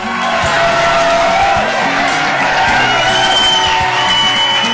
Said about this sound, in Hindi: पूरा सभागार तालियों की गड़गड़ाहट से गूंज उठा